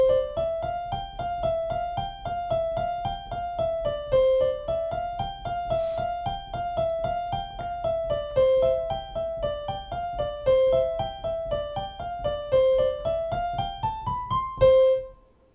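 Right-hand part of Czerny Op. 261 exercise one played slowly on piano, a steady stream of evenly spaced single notes rising and falling in a repeating pattern, ending on a held note.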